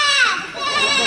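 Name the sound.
children imitating a sheep bleating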